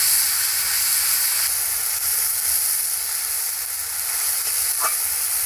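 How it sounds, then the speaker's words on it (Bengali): Onion paste sizzles steadily in hot oil in a pan as it is stirred, a loud continuous frying hiss with faint scraping through it and one brief clink near the end. "প্রথমে পেঁয়াজ বাটাটা দিয়ে দেব, দেওয়ার পর একটু ভালো করে নেড়ে চেড়ে নেব"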